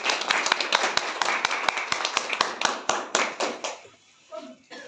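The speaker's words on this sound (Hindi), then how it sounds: "सबसे पहले मैं चाहूंगा ताली बजा के सर को" An audience at an IAS coaching academy gathering claps together in a dense, loud burst of applause that thins into a few scattered claps before dying away, with a voice briefly audible at the end.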